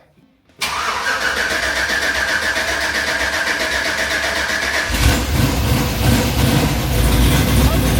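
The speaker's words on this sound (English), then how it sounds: "Listen to this exhaust" A Chevrolet C10 truck engine turns over and catches, then runs steadily with a loud exhaust rumble that deepens and grows louder toward the end.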